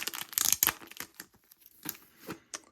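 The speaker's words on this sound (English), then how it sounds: "So I'll open the little plastic bag." Crinkly plastic rustles and tears in short bursts close up, a quick handful of crackles that taper off.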